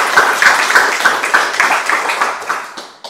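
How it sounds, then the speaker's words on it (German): An audience claps steadily at a reading in a hall, a moderate crowd giving sustained applause for a guest that fades toward the end, with no talking over it. "Und großen Applaus für dich, Judith."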